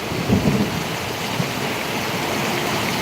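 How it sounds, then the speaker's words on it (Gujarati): Torrential rain pours down during a thunderstorm, with a deep thunder rumble early on under a constant, dense hiss of falling water and runoff. "જબરજસ્ત વરસાદ ચાલી ચાલુ છે વીજળી પણ એવી થઈ રહી છે જબરજસ્ત"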